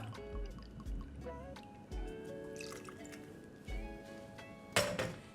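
Bitter liqueur poured into a glass for a Negroni cocktail, with soft dripping and liquid filling sounds alongside faint glass clinks and small handling noises, close and fairly quiet.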